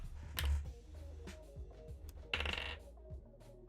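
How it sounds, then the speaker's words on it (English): A die rolled during a tabletop game, a couple of sharp clattering knocks followed by smaller ticks as it settles, faint and close with no voices. "He swiftly picks up his dice and rolls it."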